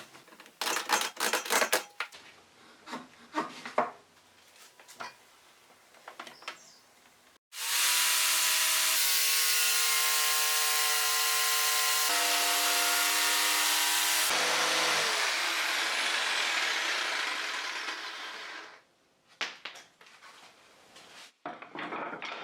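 Jigsaw cutting wooden rods cut to equal length against a spacer, a loud continuous whining buzz lasting about eleven seconds, preceded and followed by clattering handling knocks of the rods and tool.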